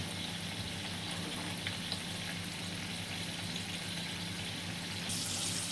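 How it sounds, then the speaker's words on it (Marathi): Chij kon balls roast in a pan, giving a steady, fairly quiet frying hiss throughout with a faint low hum underneath and a slight rise in brightness near the end. "अजून थोडे भाजून देऊ"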